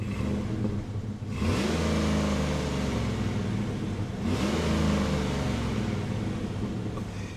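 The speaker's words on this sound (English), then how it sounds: "Let's give her a couple revs, get to cutting." A truck engine with a single-cat exhaust revs up twice, each rev climbing sharply and then holding a steady, loud drone close by.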